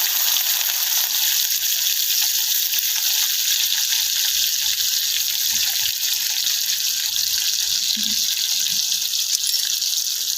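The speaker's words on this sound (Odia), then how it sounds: "ପିଆଜ ଚଡ଼ଚଡ଼ ହେଇକି ଫୁଟିଲାଣି" Onions frying in hot oil for an Odia fish besara, a steady, loud broadband sizzle throughout with a few faint stirring knocks underneath.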